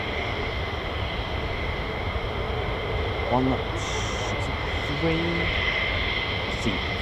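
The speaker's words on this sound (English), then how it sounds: "Three F-35s." Three F-35 fighter jets pass over RAF Lakenheath with a steady broad roar that holds evenly throughout the clip, and faint tonal whines rise and fall over it.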